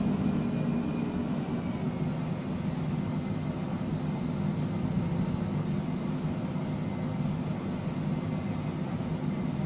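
Steady, unbroken jet engine drone of a Phenom 100 on approach in Microsoft Flight Simulator, an even roar with a faint high whine above it that holds constant all the way through.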